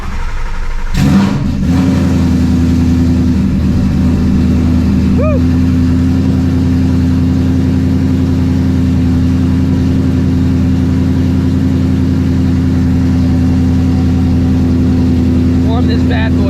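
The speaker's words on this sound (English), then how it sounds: "So let's go ahead and get a little cold start." A manual Ford Mustang GT350 engine cranks and fires up on a cold start, then settles into a loud, steady, rumbling idle that continues close by for the rest of the clip.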